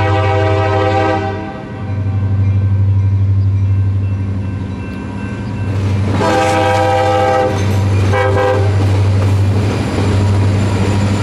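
Freight locomotive L-70 departing Fostoria heading west, a loud close rumble of engine and rolling cars with repeated long horn blasts sounding over it.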